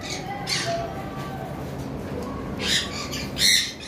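Opaline Fischer's lovebirds give sharp, loud squawks in a few bursts near the end, with quieter chirps earlier over a low background hum.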